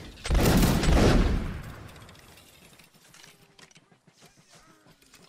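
A line of infantry fires a musket volley in a line-battle video game: one loud, close, ragged crash that rolls and fades over a couple of seconds, followed by faint clicks and shuffling.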